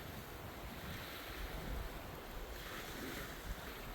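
Wind blows through trees at Timothy Lake, a faint, steady broadband rushing with slight gusty swells, heard alone without talking.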